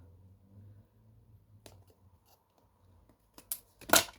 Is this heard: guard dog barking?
no